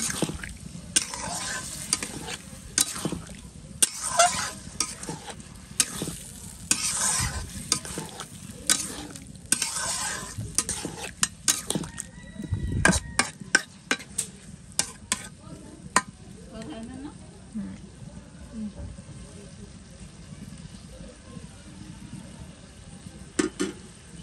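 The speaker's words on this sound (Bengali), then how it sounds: "এখন হচ্ছে নাড়াচাড়া দিয়ে দিই।" Food sizzles in a pan while a utensil stirs and scrapes it in repeated bursts, the frying hiss continuous underneath, close and moderately loud in a home kitchen with no talking.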